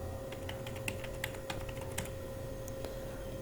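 Steady typing on a computer keyboard while filling in fields of a Google Sheets form, with light, evenly spaced key clicks over a constant background hum and no talking.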